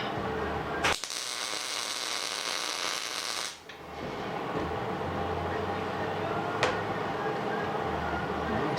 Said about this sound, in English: Let's weld this a little bit stronger.